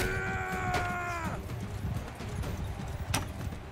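Horse in the Mount & Blade 2: Bannerlord game, clopping hooves over a low rumble with a short harmonic whinny at the start and a voice speaking faintly beneath.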